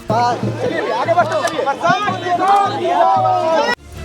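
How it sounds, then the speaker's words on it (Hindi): A large crowd in Raghopur, Bihar, gathered to see Prashant Kishor, loud overlapping chatter and excited voices filling the air close by, with steady hubbub throughout. "बड़ी भीड़ उनकी झलक के लिए उमड़ पड़ी।"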